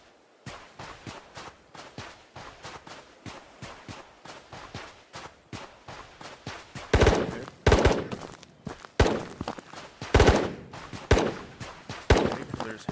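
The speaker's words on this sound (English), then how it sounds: "Okay, there's hella gunshots." Rapid bursts of video game gunfire crackle throughout, sparse shots early, then heavier, louder volleys and automatic fire in the second half.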